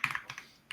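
A few quick keystrokes tapped on a computer keyboard, heard close and quiet on their own, with a short pause before a final key press.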